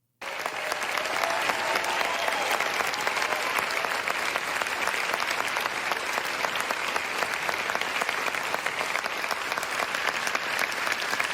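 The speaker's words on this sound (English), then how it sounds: "is met by a standing ovation of what appears to be a bunch of clapping seals here in the House of Commons" Sustained standing ovation in the House of Commons for Zelensky, a thick, even roar of many hands clapping that holds steady throughout with faint crowd noise beneath.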